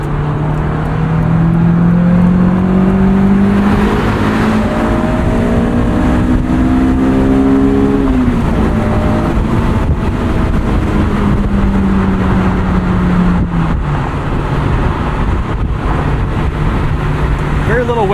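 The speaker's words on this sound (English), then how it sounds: "you rev it up into the higher RPMs, it just pulls so hard" A 2003 Honda S2000 with 19k miles revs to high RPM, its engine note climbing steadily, easing off, then rising again under constant road and wind noise from inside the cabin on a highway.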